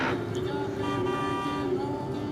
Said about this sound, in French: ça klaxonne derrière